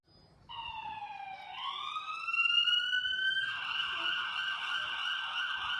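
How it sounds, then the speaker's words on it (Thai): A fire truck siren wails alone, rising in pitch and then holding a loud, steady electronic tone with harmonic overtones after a quiet start. "อันนี้คือเสียงรถดับเพลิงครับ"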